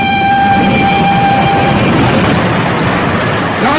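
A 1930s train rumbles loudly and steadily, with a sustained horn or whistle tone sounding over the noise for the first couple of seconds before fading.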